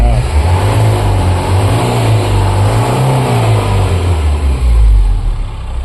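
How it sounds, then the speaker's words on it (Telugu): Jeep engine revved in place, a loud, steady rumble with its pitch swelling and easing in slow waves, close by and continuous throughout. "ఆగండి కొంచెం రేస్ చేయండి ఒకసారి రేస్ రేస్ చేయండి"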